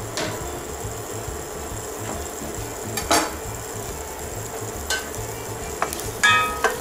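Onion and garlic frying in olive oil in a skillet, a steady close sizzle with occasional light clinks and scrapes of a utensil against the pan, no voices.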